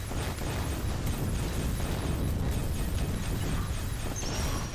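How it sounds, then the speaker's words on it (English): Torpedo explosions in the shooter game After Wave Downfall, a dense, continuous roar of overlapping blasts and rumbling bursts that stays loud and steady throughout with no voice. "More use of torpedoes."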